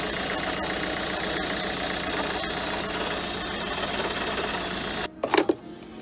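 Renault Kangoo 3 with a 1.5 dCi diesel engine running at idle, with a steady ticking rumble from a suspected faulty alternator, heard close up, then a brief knock as the recording ends.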